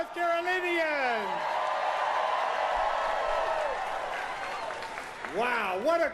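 Large crowd at a North Carolina political rally for a candidate cheering and applauding in a loud, sustained roar, with a voice speaking over it at the start and end.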